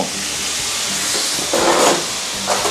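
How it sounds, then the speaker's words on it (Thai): Steady loud hiss of water sizzling in a hot pan used for grilling prawns, poured in to clean it, swelling in brief bursts toward the end, with no voices. "ผมจะลงน้ำลงไปนิดนึง ล้างกระทะครับ"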